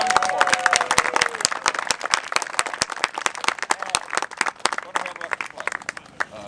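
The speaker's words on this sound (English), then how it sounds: "Big round of applause for all that" Applause from a live audience at a singing show, with dense clapping and crowd noise close by and the occasional cheer mixed in, going on steadily.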